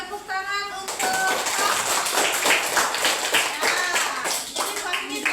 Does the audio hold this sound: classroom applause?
yes